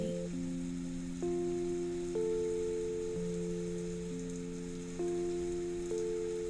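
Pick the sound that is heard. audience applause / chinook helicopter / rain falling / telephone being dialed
rain falling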